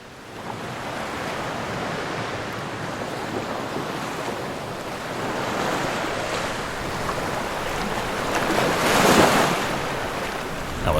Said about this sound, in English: With the waves gently lapping ashore, we very much enjoyed the sea breeze.